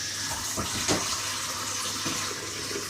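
Tap water runs steadily into a sink while a dinner plate is washed, a soft hiss with a few faint clinks and splashes, fairly quiet and close.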